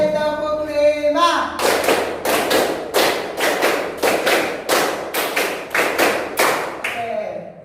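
Classroom students clap in a counted rhythmic pattern after a teacher's call, about a dozen loud sharp group claps in quick clusters across several seconds, with a spoken cue just before.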